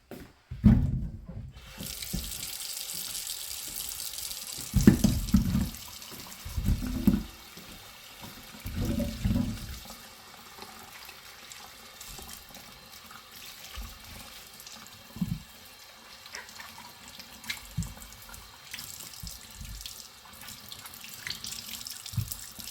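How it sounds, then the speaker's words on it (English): Faucet water running into a kitchen sink while cucumbers are washed for pickling, with bursts of splashing and gurgling flow that start and stop several times over moderate background noise, no talk. "we have our cucumbers washed"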